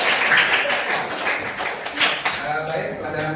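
Students in a classroom clap together in a short, scattered burst that quickly thins out, with some voices mixed in among the claps.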